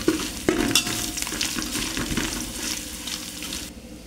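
Masala of grated dry coconut, sesame, mustard seeds, curry leaves and ginger-garlic-cumin paste sizzles and crackles in a cooking pot, with close scraping stirs and a sharp clack near the start, fading slightly toward the end.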